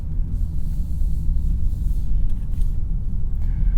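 A 2022 Genesis G70 3.3T pulls away and drives on, with a steady low engine and road rumble from inside the cabin.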